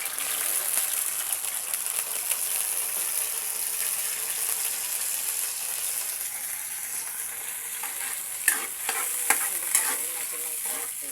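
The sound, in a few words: stirring food frying in a pan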